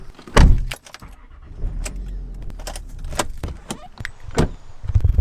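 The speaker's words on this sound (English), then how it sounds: "now we're getting in the car" People get into a car, with a loud thump near the start, then a run of clicks, knocks, rustling and door or seat sounds over a low rumble, close and with no talking.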